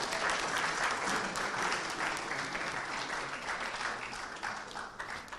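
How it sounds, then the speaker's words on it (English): An audience at a Ghana business forum on China agreements gives a speaker a round of applause, steady dense clapping from many hands that holds for several seconds and tapers slightly toward the end. "Come on, another round of applause for Dr. Amoah."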